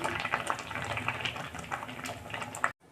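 Boiled taro leaves are stirred in a pot of boiling water, close bubbling and sloshing with soft liquid splashes under the stirring, cutting off abruptly at the end.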